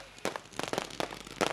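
Firecrackers burst at an Alibag Premier League cricket final, a quick series of sharp cracks and pops, fairly faint and scattered over a low background.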